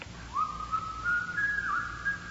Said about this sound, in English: Somebody's whistling. It's Yankee Doodle.